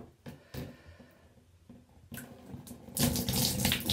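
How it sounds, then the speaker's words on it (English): Water is poured into an already full jug in a bath and spills over, with splashing bursts that grow louder and fuller toward the end, close by and without talk. "What's going to happen if I try and pour more in?"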